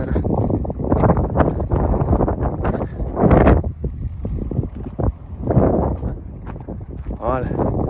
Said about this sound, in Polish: Tylko wieje, cholera.